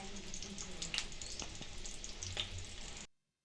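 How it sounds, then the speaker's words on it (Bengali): Vadas, small lentil fritters, frying in hot oil in a home kitchen: a close, continuous bubbling sizzle with occasional sharper pops and light stirring clicks, cutting off abruptly at the end, with no speech. "আর এভাবেই ধাপে ধাপে আমি সব বড়াগুলো ভেজে নিচ্ছি এখন।"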